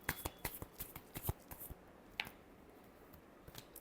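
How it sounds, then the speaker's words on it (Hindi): Tarot cards being shuffled by hand, a run of quick papery riffles and taps close up, busiest in the first half before thinning to a few soft flicks. "last shuffle"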